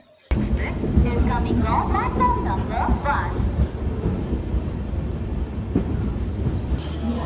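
A steady, loud rumbling of the Shalimar–Puri Superfast Express arriving at Kharagpur Junction fills the clip, with faint voices and clatter in the background.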